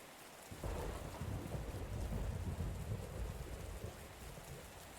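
A thunderstorm in the video game Path to Nowhere: heavy rain begins suddenly and pours steadily, with deep rolling thunder rumbling loudly beneath the downpour.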